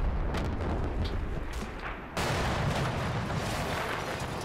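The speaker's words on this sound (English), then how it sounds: "Fortunately, our return fire is more accurate." Return fire in the Cold War tactical wargame Combat Mission, a dense, continuous rumble of gunfire and booms with a sharp rise in intensity partway through, loud and unbroken, no talking.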